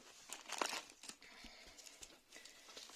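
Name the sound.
transparent wrapping paper roll being handled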